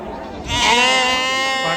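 Sheep and goats bleat loudly at a busy livestock market in Maharashtra, one long wavering bleat rising after a brief lull, with crowd chatter and someone talking underneath.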